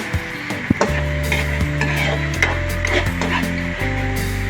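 Meat seasoned with black pepper simmers in a pan for pancit papaya, with a steady close sizzle and repeated scraping stirs of a utensil against the pan.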